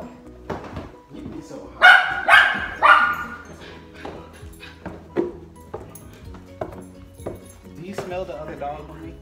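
A dog barks several times in short, loud bursts, with dishes and cutlery clinking in the background and people talking between the barks.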